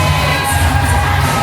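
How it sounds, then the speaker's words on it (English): Loud, dense crowd cheering at a live wrestling event, sustained roaring and shouting filling the hall. "left here with a standing ovation from the crowd here in Rayford"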